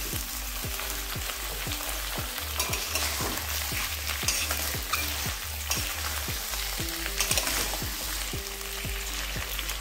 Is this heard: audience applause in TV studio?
no